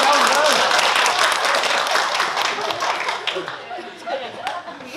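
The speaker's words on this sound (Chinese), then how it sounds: "我们给她掌声鼓励一下啊。" A classroom of students applauds a classmate, a burst of many hands clapping nearby that gradually thins and fades, with some voices mixed in.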